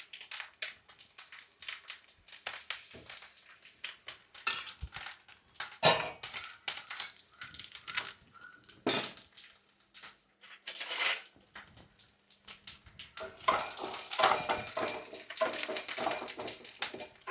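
Metal utensils clink and scrape irregularly against a pan while soya bean fry is stirred, quiet and close, with a few louder knocks and stretches of near silence.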